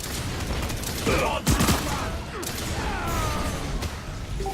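Gunfire in the first-person shooter Lawbreakers comes as dense, loud bursts and sharp impacts, with heavy thuds near the middle and steady combat noise throughout.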